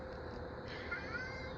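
A cat meows faintly in a quiet room early in the morning, a thin drawn-out call rising over a steady low background hum, with no voices.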